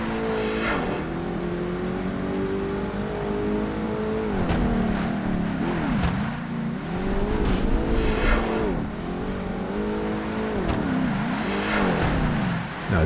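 Shelby roadster engine racing in Project Gotham Racing 2, a loud continuous game engine note that revs up and drops repeatedly through gear changes and corners, with no voices over it.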